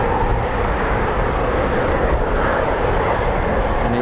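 Douglas C-47 Skytrain aircraft flying past at an airshow: a loud, steady broadband piston-engine roar with heavy rushing noise that holds constant throughout, no talking.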